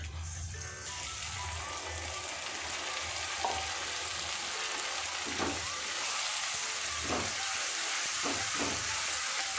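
Spices tipped into softened onions frying in a pan, a steady loud sizzle throughout with a few scraping stirs and clinks near the end.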